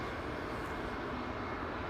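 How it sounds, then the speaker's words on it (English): A KLM Airbus A321neo at Amsterdam Schiphol Airport, its engines producing a brief, even, broadband jet roar at moderate distance, with no voices. "in the very foreground we have the A321neo from KLM"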